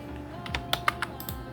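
Keys on a computer keyboard are pressed for a Control+R shortcut in Premiere Pro, a quick cluster of four or five light, close clicks over a quiet room hum.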